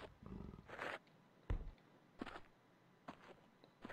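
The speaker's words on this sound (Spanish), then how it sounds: "es un tigre, chicos, es un tigre que anda ahí" A tiger in the Survivalcraft 2 game gives a few short, faint growling roars, spaced apart and heard at a distance.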